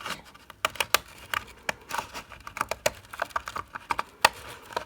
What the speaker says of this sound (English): You can use straight scissors and then just cut your leaf out